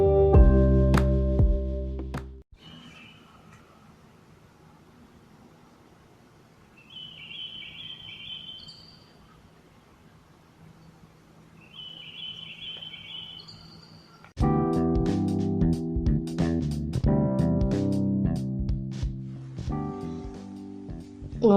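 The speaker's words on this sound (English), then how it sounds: "I held my phone out the window so you could hear the green birds across the street." Green birds across a street chirp in short high bursts, faint and distant, against steady outdoor hum between louder passages at the start and end.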